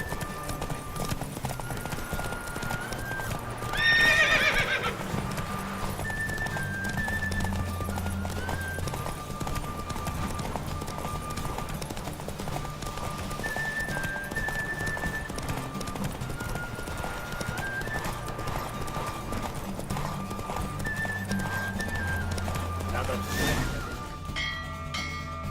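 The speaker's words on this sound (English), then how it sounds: "Don't spare the horse!" A horse gallops in a race in The Witcher 3 video game, its hooves clip-clopping in a steady rapid rhythm throughout, with a brief whinny early on, a few chime-like tones and occasional faint game voices.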